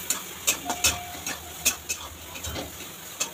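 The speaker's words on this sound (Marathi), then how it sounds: "आता मसाला मस्त परतून घ्यायचा." Masala spices for chole, including homemade masala, turmeric and chole masala, are sautéed and stirred in a pan. Irregular scraping clicks of the spoon against the pan sound close and distinct over a faint, steady sizzle.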